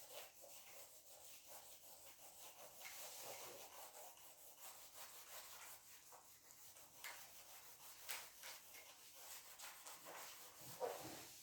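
Writing is rubbed off a board in a classroom setting. Faint, continuous scrubbing strokes come close together, with no speech over them.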